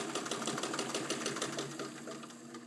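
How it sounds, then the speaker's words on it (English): A Singer 66-18 Centennial straight-stitch-only sewing machine with crinkle finish runs steadily at the longest stitch length, its needle and mechanism clattering in a fast, even rhythm, close and alone with no talk. "what you're seeing right now is the longest length straight stitch here. This is a straight stitch only machine."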